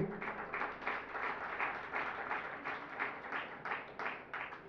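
An audience at a Jain religious discourse claps in a steady rhythm. The applause is faint and distant, with evenly spaced beats throughout.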